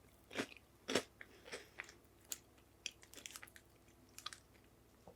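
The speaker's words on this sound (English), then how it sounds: "it's crunchy at first, but then it kind of melts in your mouth" Crunchy senbei rice cracker being bitten and chewed close up, sharp crisp crunches at first, then softer, scattered chewing crackles, fairly quiet.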